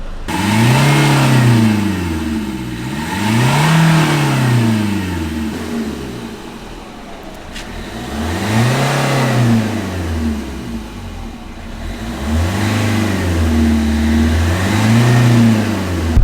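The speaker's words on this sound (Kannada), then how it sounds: "ಇತ್ತೆ ಗಾಡಿ ಒಂಜಿ 2 ಸಾರಿ ಏನು ರೇಸ್ ಮಲ್ಪೆ ಐಟ್ಲ ಇರೆಗ ಬ್ಯಾಕ್ ಸೈಡ್ ಹಿಡ್ದು ಸೈಲೆನ್ಸರ್ ಹಿಡ್ದು ಹೊಗೆ ಪೋಪುಂಡು" A Ruby vehicle engine after carbon cleaning revs up and down in repeated close, loud swells, smoke coming from the silencer, with no talking.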